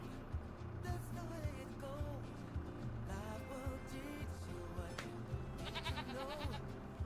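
Goats bleat repeatedly in the Farming Simulator 25 video game, several calls scattered over a steady low farm-machinery hum, with occasional game sounds between them.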